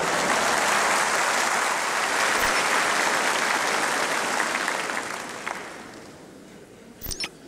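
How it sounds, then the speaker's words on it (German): A studio audience applauds loudly after a comedy sketch on East German television, steady dense clapping that fades out gradually, followed by a few sharp clicks at the end. "Applaus."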